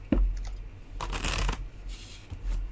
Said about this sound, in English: I'm sitting here doing a gentle shuffle.